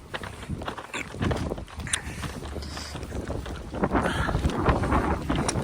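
Strong wind gusts roar and buffet the microphone continuously, a rough rumbling rush that swells louder toward the end.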